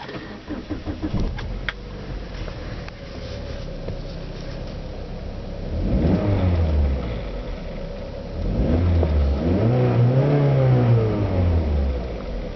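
A 2008 Saab 9-3 BioPower engine revs in two rising and falling bursts, each climbing to a whine before easing back to idle, heard nearby over a low steady hum with no talking.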